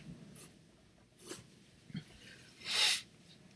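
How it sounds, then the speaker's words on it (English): A single sharp sneeze bursts out near the end, preceded by a few quieter breathy sounds, close to the listener in an otherwise quiet room. "I'm going to sneeze"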